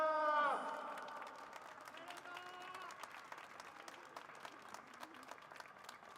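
A grandstand crowd claps and cheers for the podium at a Ferrari Challenge Japan race at Fuji. The steady applause carries on throughout, loudest at the start, with voices and some tonal sound mixed in.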